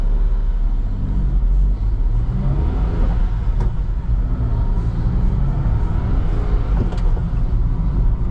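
A 2020 Daihatsu Hijet kei truck with a 5-speed manual and 4x4 drives along with a loud, steady engine drone and road rumble heard from inside the cab, with a brief shift in engine note partway through.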